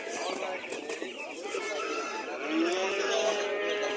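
Chicks cheep in high, rapid chirps amid busy crowd chatter and nearby voices, as in a crowded market.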